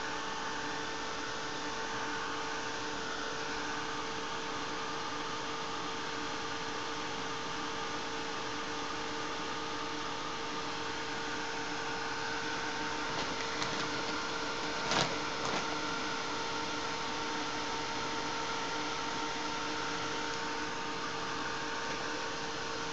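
A heat dryer blows steadily over wet paint on an art journal page, a loud, constant whooshing hum that runs unbroken for over twenty seconds with no talking.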